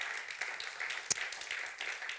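A live audience claps and cheers loudly in a steady, dense wash of applause, with one sharp louder clap standing out partway through.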